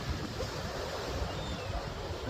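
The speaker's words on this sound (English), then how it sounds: "Crashing against them stones." Ocean waves crash against rocks at St Ives in a continuous rushing roar of surf, fairly faint and unbroken, with no voices.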